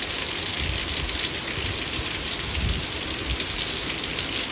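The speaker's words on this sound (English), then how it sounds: "Look at that sideways rain going on." Heavy sideways rain pours down steadily in a strong thunderstorm, a dense, loud, unbroken roar of rain on surfaces with no voices.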